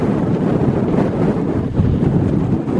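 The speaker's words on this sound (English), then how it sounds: "But it's taking a bit of a battering in the wind." A Vango Nevis 200 tent on a wild camp in the Carneddau, Snowdonia, is buffeted by strong wind. The roar is loud and steady and fills the whole stretch, with a rough, gusty rumble and no voices.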